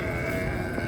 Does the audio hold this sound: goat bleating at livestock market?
yes